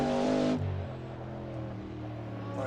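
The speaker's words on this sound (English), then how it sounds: "I hear an engine over there." Race car engines in a video game, Ford GT40 at Bridgehampton, drone steadily with shifting pitch, one loud tone dropping sharply after half a second, then a lower continuous hum lingering at moderate distance.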